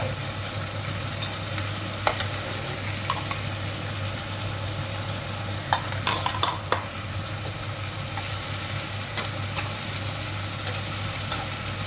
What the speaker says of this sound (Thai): เอาต้นคะน้ากับ ก้านคะน้าลงไปผัดก่อนนะคะ